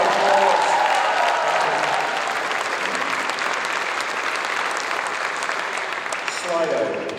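Sustained applause from a TBEX conference audience in Ostrava, loud and continuous, with a voice briefly audible at the start and again as the clapping trails off.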